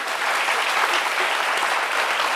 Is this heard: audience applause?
yes